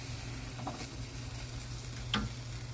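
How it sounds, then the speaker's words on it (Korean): Curdled milk is stirred gently in a pot off the heat during homemade cheese making, a quiet continuous low stirring with a steady hum and a single faint clink near the end. "자, 이제 잔열을 이용해서 이렇게 저어주세요."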